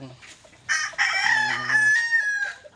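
A Sweater Kelso cross rooster crows once at close range, a loud drawn-out cock-a-doodle-doo with a long held final note, with soft clucking and a little background noise.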